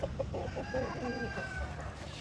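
Laying White Leghorn hens cluck softly in short, repeated bursts with farmyard background noise; a rooster's crow is not clearly distinguishable.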